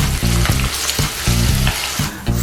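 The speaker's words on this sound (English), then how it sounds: "Stir fry the potato cubes" Potato cubes stir-frying in a cup of hot oil over medium heat, a loud close crackling sizzle with rhythmic tossing and scraping strokes about twice a second, with no voices.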